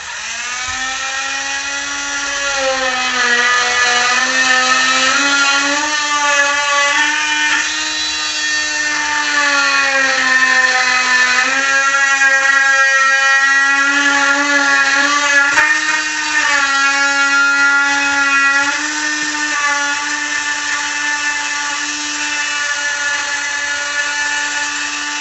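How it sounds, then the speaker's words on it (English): An oscillating saw cuts a slot into a kitchen peninsula countertop, a loud, close, continuous buzzing whine whose pitch wavers slightly as the blade works for the full stretch. "Take your oscillating saw."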